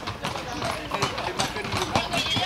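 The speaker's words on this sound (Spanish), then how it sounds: "Muchos caballos este año," Horses' hooves clip-clop in a rapid, irregular clatter at a pilgrimage procession (romería) in Busquístar, Spain, mingled with crowd noise and people talking nearby.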